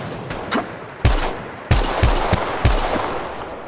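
Assault rifle gunfire in the mobile shooter Apex Legends Mobile: several loud, sharp bursts, each an abrupt crack trailing off into sustained rattling fire, spread across the clip with a fainter shot near the start.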